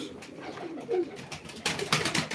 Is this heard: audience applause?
no